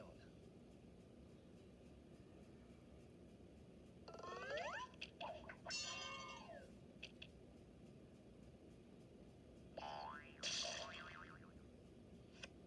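In a video game, a character's butt hits the beach with cartoonish springy boings: one bouncy wobbling burst, then a second a few seconds later, quiet against a soft background hum.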